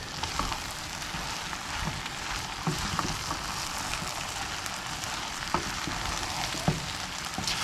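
Flour browning in a pan for braised beef chili, a soft continuous sizzle and crackle with occasional faint taps and stirring scrapes, fairly quiet and close.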